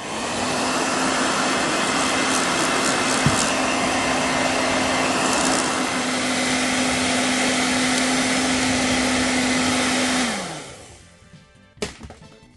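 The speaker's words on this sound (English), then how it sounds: "I think I might need a hairdryer on this big boy here." A hairdryer blasts hot air onto stickers on a video game case, a steady loud whoosh with a constant whine that runs for about ten seconds, then winds down and cuts off, followed by a faint click.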